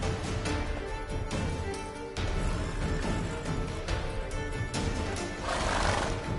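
A horse neighs in The Witcher 3, its whinny rising out of a steady bed of music and ambient game sound, with faint hoof clip-clops nearby.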